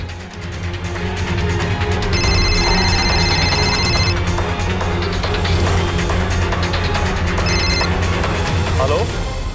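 A telephone bell rings in two bursts of trilling rings over a loud, busy background with a low rumble and some voices.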